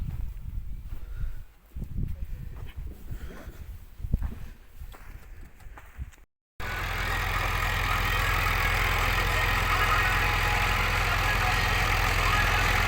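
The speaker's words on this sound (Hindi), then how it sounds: "हमारे खेत में दोनों ट्रैक्टर एक साथ काम करते हैं।" A tractor engine runs on a potato farm during planting, first muffled beneath rustling and footstep-like noises, then after a brief dropout a loud, steady, close engine drone with a constant low hum.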